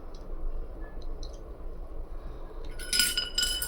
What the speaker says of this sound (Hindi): अब यहाँ से निकाल कर मैं इसको सादे पानी में डिप कर रही हूँ।